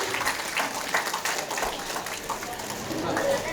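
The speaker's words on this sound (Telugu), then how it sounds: "come on claps everybody" An audience claps together at a documentary event, a dense, continuous patter of many hands mixed with crowd voices and talking, fairly loud and close for the whole stretch.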